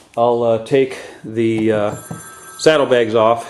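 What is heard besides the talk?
telephone ringing in the background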